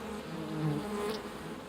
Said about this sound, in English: The humble honeybee is the most widespread bee in the world today